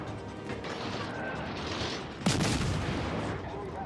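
Ship guns fire in World of Warships: one loud, sudden blast with a rumbling decay rises over steady game ambience and low background noise.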